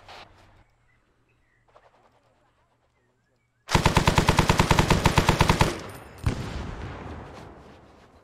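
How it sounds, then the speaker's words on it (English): Loud, close machine gun fire in the Arma 3 military game rips out in a rapid sustained burst of about two seconds, followed by a single sharp shot and fading echo. "Taking fire from the east, close."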